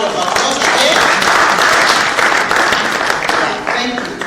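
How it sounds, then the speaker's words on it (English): A crowd gives a presenter a loud, full round of applause, a thick continuous roar of clapping with a voice surfacing near the end. "Let's give him a full round of applause again."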